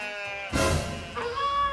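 A single sheep bleats from an animated children's tale set in a meadow, a short wavering cry rising near and clear over a soft background tone, with no talking.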